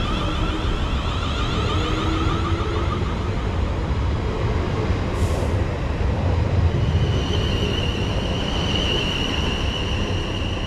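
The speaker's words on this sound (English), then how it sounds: "And that is 450-086 heading out." A British Rail Class 450 electric multiple unit, 450-086, pulls out of Bursledon station, a steady close rumble of wheels and traction lasting throughout, with a thin high whine rising toward the end.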